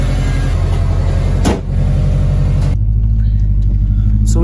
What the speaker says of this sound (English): You can definitely hear the turbo spool a lot more.